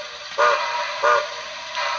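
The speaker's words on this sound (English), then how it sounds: "Number 3, short whistle blast." Short toots from a Bachmann Echo Valley Express toy train whistle, two clear blasts and a fainter third, over a steady hissing background.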